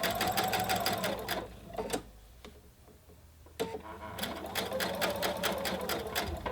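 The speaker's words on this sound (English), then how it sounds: "start stitching. This is a very fluid fabric, so you might want to take it easy to make sure you're stitching accurately." A sewing machine stitches a very fluid fabric in rapid ticking bursts, pausing for a couple of seconds in the middle before running steadily again, close and clear.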